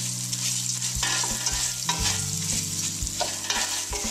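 Rice toasting in a pan for risotto, soft steady sizzle with repeated scraping and tapping of a utensil stirring the grains, close and fairly quiet, no talk.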